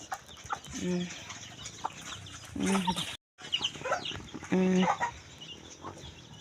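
Several chickens cluck in bursts around a farmyard, with a few louder close calls standing out over a busy background of other birds.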